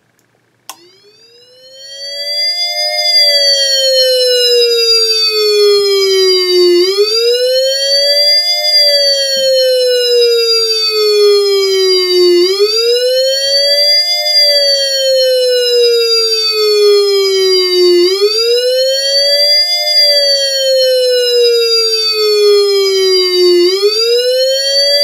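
ACA Alertronic electronic siren sounding its attack signal, a loud rapid wail that rises and falls in repeated sweeps of about five seconds each, continuous and close.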